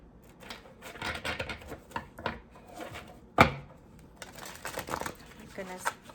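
A deck of oracle cards is shuffled by hand, giving soft irregular papery riffles and taps with one sharper slap, close up and fairly quiet.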